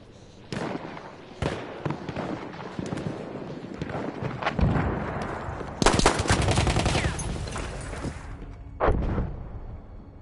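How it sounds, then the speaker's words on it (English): Machine gun fire in a video game rattles in loud, rapid bursts, with sharp isolated shots and a sustained barrage in the middle, dense and close throughout. "Machine gun over there!"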